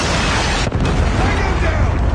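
A missile blast in the Call of Duty video game: a dense, loud roaring rumble with heavy low-end that fills the whole stretch, briefly dipping before surging on.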